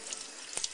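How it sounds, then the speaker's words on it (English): Hands are rinsed under running tap water during an aquarium water change, heard as a short, close spatter of flowing water with a few sharper splashes at the end. "Just rinse them with regular tap water."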